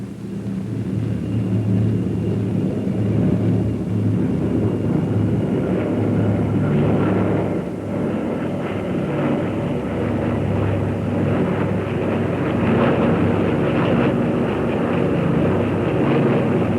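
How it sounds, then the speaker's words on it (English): Heavy, steady engine drone of the Bristol Brabazon, a large airliner with eight paired piston engines, a broad low rumble holding at constant loudness throughout with some wind buffeting. "The Bristol Brabazon is on its way, the world's largest civilian land plane."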